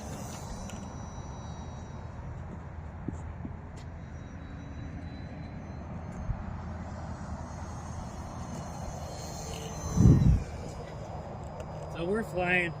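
A model Cub airplane flies at partial throttle, its small engine giving a steady, fairly faint outdoor drone throughout. A brief low thump comes near the end, along with some light background noise.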